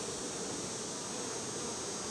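A steady, soft drone of honeybees buzzing around an open hive during a beekeeper's inspection for splits and queen cells, continuous and close with no voices over it.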